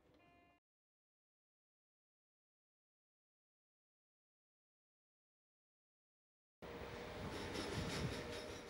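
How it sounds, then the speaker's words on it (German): A nostalgic RuhrtalBahn train passes the large freight yard at Hagen-Vorhalle in Germany. After a brief sound at the start and a long silence, a loud, close rolling rumble of rail noise fills the last two seconds. "Auf der nun flotten Fahrt bis zum Bahnsteig in Hagen-Vorhalle passiert unser Zug den Güterbahnhof."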